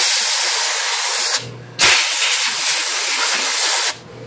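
Compressed air blasting through the type slugs of a Royal X Ten typewriter, two long loud hissing bursts, then a short pause, close and harsh.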